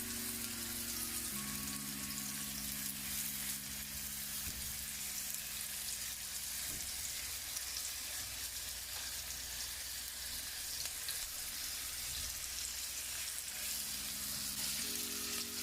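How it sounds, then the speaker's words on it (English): Shrimp frying in a pan give off a steady, close sizzle that runs unbroken throughout, with a few faint clinks and stirring sounds mixed in. "I'm gonna fry up my shrimp."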